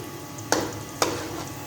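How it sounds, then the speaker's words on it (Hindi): Onions and fennel seeds sizzle steadily in a pan while frying for chana pulao, with two quick scraping stirs cutting through the frying. "मैं सौंफ भी प्याज के साथ ही हल्की हल्की से फ्राई कर दूंगी।"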